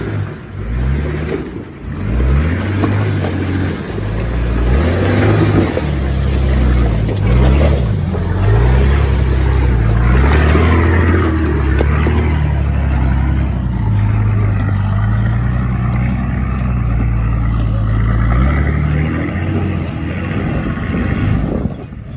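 A V8 four-wheel drive revs hard on a rocky bush track, the engine roaring loud and close with rising and falling surges, strained grunting pulls and a sustained heavy drone.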